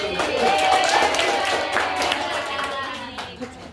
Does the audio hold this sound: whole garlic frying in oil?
no